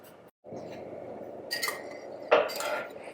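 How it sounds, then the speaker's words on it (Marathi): Yogurt is whisked in a large bowl, giving soft scraping and a few sharper clinks of utensil against the bowl in short, uneven bursts after a brief pause, fairly close and fairly quiet. "आता दही काय करायचं आपल्याला चांगलं फेटून घ्यायचंय."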